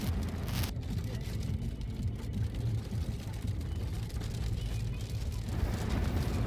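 Rain falls outdoors at Bhangarh Fort in Rajasthan on a summer day in May, a steady broadband hiss running unbroken and fairly loud from start to finish over a low rumble.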